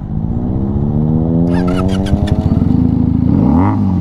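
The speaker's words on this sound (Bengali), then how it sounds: "এটাও ভাই একটা মিনি সুপার বাইকের মতো আওয়াজ দেয়, ঠিক আছে? হেভি আওয়াজ দেয়।" A Benelli motorcycle engine idles and then revs close up, a loud throaty rumble that rises in pitch through several quick throttle blips.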